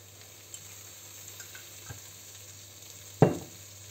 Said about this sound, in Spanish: Les añado un poco de sal y vamos a tostarlas a fuego medio alto.